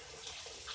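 Water runs steadily from a bathroom sink tap, a continuous close hiss and splash with no talk.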